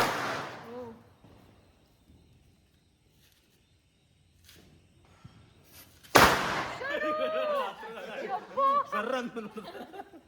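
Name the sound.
firecrackers being set off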